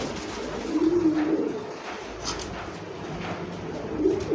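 A male pigeon coos in a loft, soft low throaty rolling calls up close, two short bursts separated by a pause, with a low background murmur.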